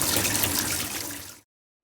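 Water gushing steadily from a household tap during a plumber's flow test, a close, broadband rushing stream that fades slightly before stopping abruptly.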